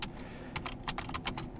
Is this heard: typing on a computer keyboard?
yes